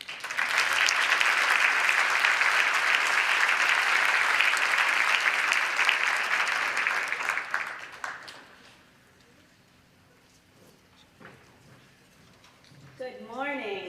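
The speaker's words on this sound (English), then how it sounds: "let's give her a round of applause" A conference audience applauds loudly for about eight seconds before the clapping fades into a quiet room, followed by footsteps and a voice starting to speak near the end.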